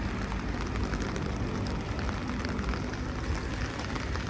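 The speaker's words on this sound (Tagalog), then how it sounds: "Medyo biglang umulan ngayon." Sudden rain falling outdoors in Japan, a steady, dense hiss of drops spattering on surfaces that stays even and close throughout, with no voices.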